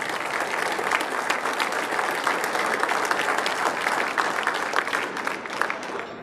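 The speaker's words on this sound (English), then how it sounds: "Let's give our 2022 Hall of Fame class one more round of applause." An audience at a National Softball Hall of Fame induction ceremony gives the 2022 class a round of applause: steady, full clapping from a sizable crowd, sustained throughout and tapering slightly at the very end, with no voices over it.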